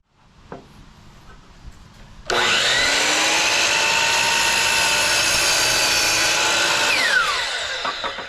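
A power saw cuts wooden shelf boards to length for a jewelry wall box. After a quiet start with faint handling, it spins up abruptly into a loud, sustained high whine that holds steady, then slowly winds down near the end.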